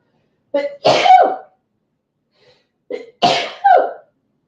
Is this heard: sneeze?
yes